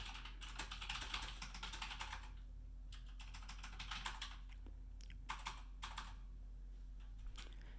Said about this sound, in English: she has this mechanical keyboard, so it clacks like that on purpose